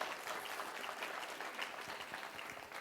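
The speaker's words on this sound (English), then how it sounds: "let's give him a clap as well" A church congregation at a Croydon Vineyard tenth birthday service claps for a speaker who has come down from leading worship with the children, a brief, fairly faint patter of many hands with no voices.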